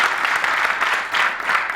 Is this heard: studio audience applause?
yes